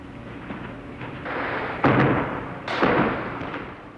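Distant gunfire clatters among rocky mountain slopes during a guerrilla engagement, a few dull thumping bursts rising over steady background noise with no one speaking.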